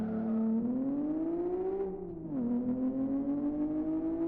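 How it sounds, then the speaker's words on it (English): A six-cylinder car engine in the racing game Live For Speed holds a steady, smooth drone that rises, dips briefly and settles again, alone and fairly loud. "Yep, there's that 6-cylinder sound."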